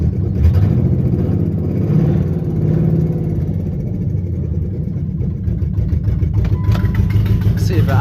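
A car engine with an owner-installed traction control button idles on its own, a steady mid-low rumble running throughout at close range, with a brief rise in pitch near the end.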